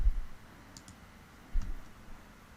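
Computer mouse clicking in CAD software, a couple of faint, close, dry clicks spaced apart over a quiet background.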